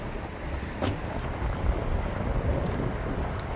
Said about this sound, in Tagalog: Oh wow, it's so windy.